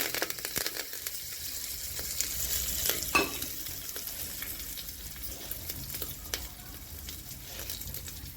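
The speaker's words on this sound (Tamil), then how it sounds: "கடுகு பொரிஞ்சதும் கருவேப்பிலை போடலாம்." Mustard seeds and curry leaves fry in hot oil for a tulsi rasam tempering, giving a steady close crackling sizzle with a sharp pop near the middle and no talking.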